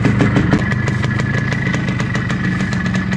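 A cold Yamaha RD135 two-stroke motorcycle idles while warming up, a steady close, loud, rapid popping putter with an even rhythm and no voices.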